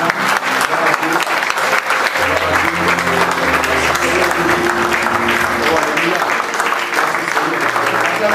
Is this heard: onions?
no